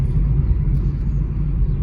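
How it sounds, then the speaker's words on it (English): Car engine just started and idling roughly, a steady heavy low rumble with slight shaking vibration, close and continuous, no talking. "I just turned my car on right now. It's fucking shaking."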